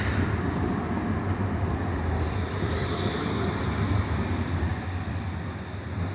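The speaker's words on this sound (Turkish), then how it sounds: "Tramvayın geçişini gördük." A tram rolls past on a street in Antalya's city centre, a continuous low rumble and clatter of wheels that swells slightly and then eases, with general traffic noise around it and no talking.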